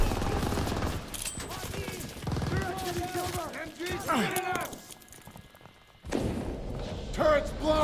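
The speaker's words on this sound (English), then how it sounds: "MGs are still sweeping the beach." Machine guns sweeping a beach during a D-Day landing in a shooter game, rapid crackling fire mixed with battlefield noise and shouting voices, with a loud burst returning near the end.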